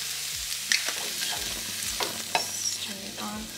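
Seasoned food, with smoked paprika, citrus garlic seasoning and cumin, is stirred in a hot pan, with a steady soft sizzle broken by repeated scraping strokes of the utensil, close and fairly quiet, with no talking.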